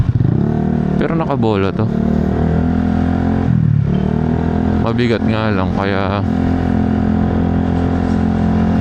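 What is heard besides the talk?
Honda Click scooter engine noise while riding, stock bored-out engine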